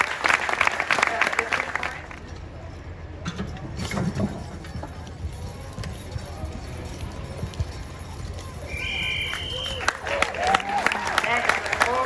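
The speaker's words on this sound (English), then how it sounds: "let's give Kevin a big round of applause" Crowd applause at a horse pull in Big Rapids, scattered clapping mixed with hoof clops, jangling and outdoor bustle, with voices talking throughout and louder bursts toward the end.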